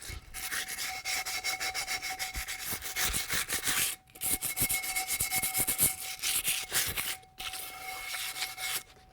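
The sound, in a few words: sandpaper rubbing glue off a drum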